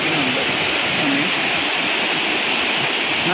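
Areekal waterfall at Pampakuda village rushing steadily over rocks, a dense, continuous roar of falling water heard close and loud throughout, with no talking.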